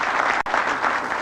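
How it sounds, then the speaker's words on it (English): Military brass applaud Clinton's announcement with a dense burst of clapping that drops out briefly and then resumes just as strongly. "Clinton drew applause from the military brass"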